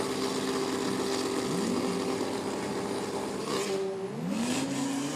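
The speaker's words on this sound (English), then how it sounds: "Picando adelante el Audi RC3 por el derecho." An Audi RS3 launching down a drag strip at a race, its engine holding a steady loud drone that drops and then climbs again as it revs through a gear change, heard from nearby over a constant roar.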